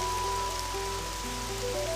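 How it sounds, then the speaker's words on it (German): A heavy rain downpour in the video game Unleashing of Chaos 2 hisses as a steady, dense wash, with faint tonal game music running beneath it. "Boah, was für ein Platzregen."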